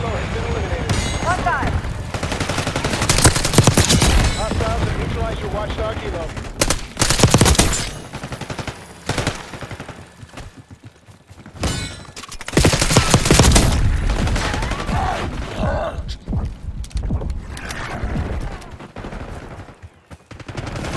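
Rapid gunfire in a first-person shooter match on the Babylon map: dense, loud bursts of automatic fire rattle almost continuously, with a brief lull in the middle before another heavy volley and shorter bursts trailing off.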